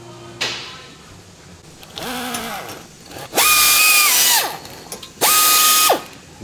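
An impact or power tool spins out a T30 Torx screw holding the front brake rotor on a 2016 Volkswagen Passat, giving bursts of loud whirring and ratcheting: a short buzz, a rising whine, then two sustained high-pitched runs close up.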